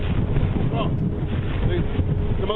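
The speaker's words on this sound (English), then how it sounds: "the most severe gust that's pushing through" A severe gust from Hurricane Irma roars across a flooded street, a constant heavy wind buffeting the microphone with low rumbling and flapping, dense and close with no break.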